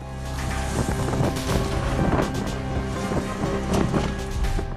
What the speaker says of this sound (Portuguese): O vento fica cada vez mais forte.